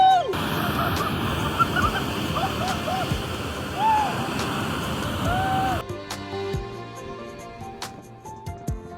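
Atlantic ocean waves surge and splash around a swimmer off Madeira in December, a loud, churning wash with excited voices and shouts over it, then quieter lapping and splashes near the end.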